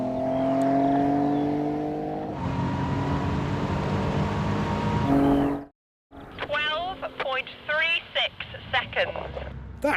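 A 2004 Ford Mondeo ST220 launches hard on a quarter-mile run, its engine note rising strongly through the gears, loud and sustained before a brief cutout. Afterwards someone speaks over lighter background noise.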